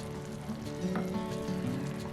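Tomato-paprika shakshuka sauce, thinned with water or meat broth, bubbles and sizzles softly in a pan as it comes to a boil, a steady low crackle with a faint hum and no talk.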